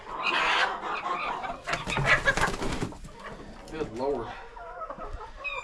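Hens on a small Tennessee homestead cluck and squawk loudly and close by, in bursts of busy calls, and a person speaks briefly among them.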